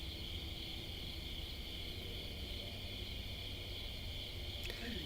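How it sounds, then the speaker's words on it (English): Crickets chirp at night during sky watching, a dense, steady high-pitched trill that runs unbroken and fairly loud over a low rumbling background, with a faint tick near the end. "Crazy crickets. Don't they know they're noisy?"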